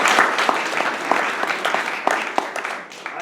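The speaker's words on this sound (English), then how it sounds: "a round of applause." Audience at a city council district address clapping, a short, moderately loud burst of hand claps with a few sharper individual claps, fading slightly toward the end.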